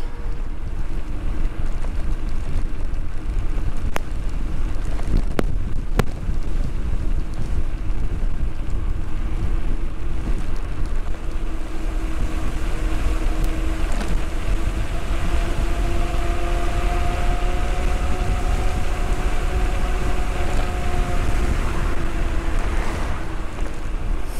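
Steady, loud wind buffets the microphone throughout a bike ride through the Deerness Valley, a continuous rushing roar with no talk and a faint tonal hum running beneath it.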